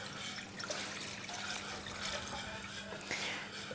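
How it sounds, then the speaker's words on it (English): Two cups of water are poured into a large pot on a stove, giving a steady, fairly quiet rushing splash that runs continuously for several seconds without pause. "we're going to add 2 cups of water first"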